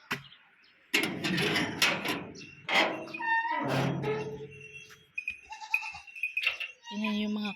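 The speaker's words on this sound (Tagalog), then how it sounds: "Tingnan yung mga kambing." Several goats bleating close by, a series of loud wavering cries from more than one animal with short pauses between calls, plus faint knocks in the background.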